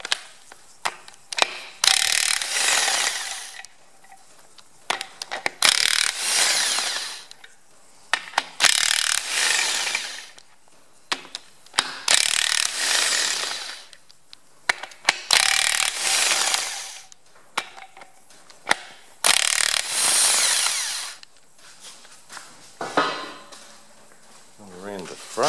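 A hand ratchet loosens the crankshaft main bearing cap bolts on a Massey Ferguson 135 tractor engine, in repeated loud rasping bursts of a few seconds each, separated by short pauses.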